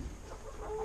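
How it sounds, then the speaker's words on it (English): Chickens in a backyard coop give soft, scattered clucks over a steady low rumble of background noise, brief and fairly quiet throughout. "This is our chicken coop right here."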